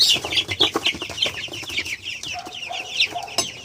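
Cobb500 broiler chicks peep and cluck busily, twelve days old, with a constant chorus of high chirps in quick, uneven succession, heard close up with no talk over them.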